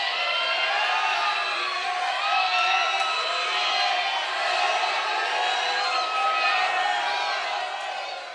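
A studio audience at a children's dance show cheers, whoops and shouts in a dense, loud, sustained roar that swells and holds for the whole stretch.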